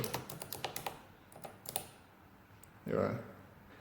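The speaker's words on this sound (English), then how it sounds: "It's a reed switch keyboard, and the keys have linear actuation. It's quite a deep keystroke too." A quick run of clicking reed-switch key presses with deep linear keystrokes on an early 1970s Sharp calculator, several in a row, then a pause and a brief louder clunk near the end; faint, with room noise beneath.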